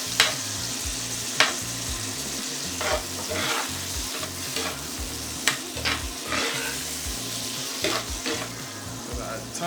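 Onions and ackee crackle in a hot pan, a close sizzle broken by frequent sharp scrapes and clacks of a spoon stirring against the metal, with no one speaking.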